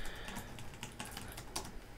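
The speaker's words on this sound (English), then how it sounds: "I'm gonna go ahead and type in a password." Typing on an MSI GT780R laptop keyboard while a password is entered, with a steady run of close, crisp key clicks at an uneven rhythm and no talking.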